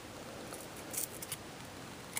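Scissor tips push a short length of yarn through a punched hole in a recycled paper gingerbread ornament, making a few faint, close clicks and rustles against a quiet hiss.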